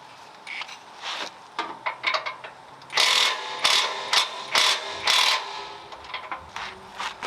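Ratchet loosening the lower control arm nuts on a fifth-generation Toyota 4Runner, with bursts of close, crisp clicking that start sparse and become loud runs of rapid ratcheting in the middle before tapering into scattered clicks.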